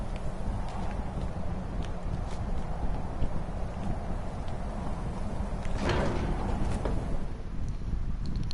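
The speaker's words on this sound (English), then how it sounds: "Horse." Horse hooves clip-clop in Skyrim, a steady, moderately quiet run of hoofbeats beneath a constant windy outdoor hiss, with one brief louder scrape midway.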